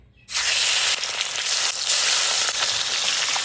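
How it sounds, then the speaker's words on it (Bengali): After a brief quiet moment, a loud burst of sizzling erupts as salted, turmeric-rubbed bhola fish hits hot oil, then crackles and hisses steadily, close up. "তেল গরম হয়ে গেছে, মাছ দিয়ে দেবো।"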